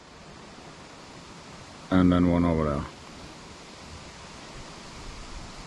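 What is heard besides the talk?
stream of water flowing into pond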